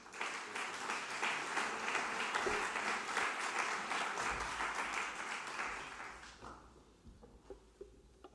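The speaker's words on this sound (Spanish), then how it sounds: "Recibimos con un aplauso al vicerrector de Desarrollo Académico de UNIR" An audience at the official opening of a conference in Logroño applauds to welcome a university vice-rector, a dense sustained round of clapping that holds for about six seconds and then fades to a few scattered claps.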